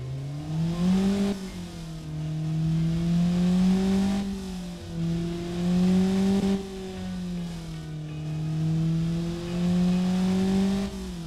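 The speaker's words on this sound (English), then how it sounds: "let's hear this engine. The Mazda SkyActiv 2-liter engine" A Mazda SkyActiv 2.0-liter car engine revs up and down repeatedly, a steady droning hum rising and falling in pitch across several swells, loud and close with no talking.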